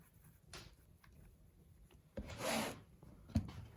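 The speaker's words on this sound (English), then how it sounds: "you can run them between your hands" Soft, close rubbing and rasping as clay coils are rolled between the hands for a coil pot, with a louder sustained swish near the end and a faint thump, quiet overall.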